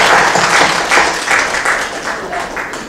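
An audience claps at a prize-giving ceremony during a book festival event, a dense, even wash of applause that stays loud for a few seconds before easing slightly.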